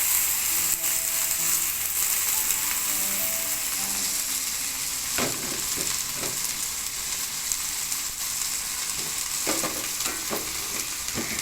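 Sweet leaves are stirred into a frying fish curry, giving a loud, steady sizzle throughout, with occasional scraping and clinking as the mixture is turned in the pan.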